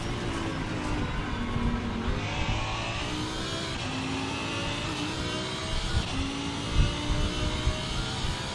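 An Audi GT3 race car's engine at Daytona International Speedway, recorded onboard, roars steadily and close throughout, its pitch climbing and dropping in repeated sweeps as the driver accelerates, shifts and brakes.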